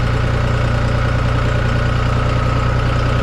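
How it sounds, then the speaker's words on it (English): A Big John tractor's engine drones steadily as it pushes farm equipment during the sorghum season, a loud, close, continuous throbbing rumble with an even pulse and no voices. "we're pushing this dude in with this Big John tractor here"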